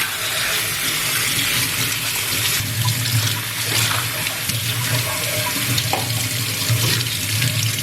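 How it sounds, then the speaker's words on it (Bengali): Two green mangoes are washed under a running kitchen tap, giving a steady, close splash of water that continues unbroken and alone throughout. "এবার আম দুটো ভালো করে ধুয়ে নেব।"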